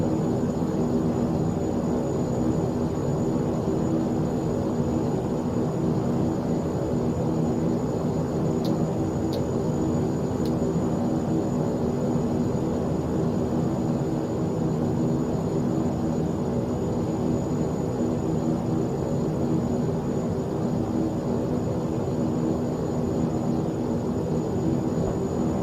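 Steady droning hum of a Saab 340 turboprop taxiing in X-Plane 11, constant engine whine and broadband rumble for the whole stretch, even in level, with a couple of faint brief clicks and no talk.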